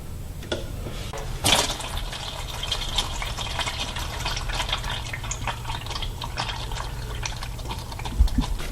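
Engine oil draining from a 1999 Chevy Suburban 1500 during an oil change, a steady, fairly loud liquid pour with a splashy gush early on, continuing alone without talk.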